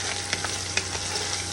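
A garlic and ginger mixture hits a hot pan with Brussels sprouts and sizzles steadily, with a few light scrapes and taps of a utensil, close and alone.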